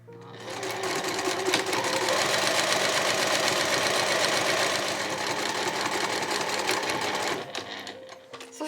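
A sewing machine stitches a seam across canvas for a two-tone shoulder bag, running in one continuous fast whirring, rattling burst for about seven seconds before slowing to a stop, close and fairly loud.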